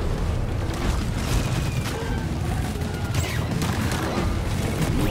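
Explosions and heavy gunfire fill a cave battle in the co-op video game Deep Rock Galactic, a dense, continuous roar of blasts and rumbling debris throughout.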